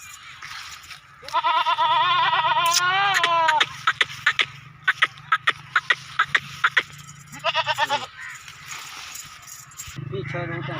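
Goats at a livestock sale bleat in several long, loud wavering calls, with a run of sharp clicks or taps between them and a short final bleat, close to the listener.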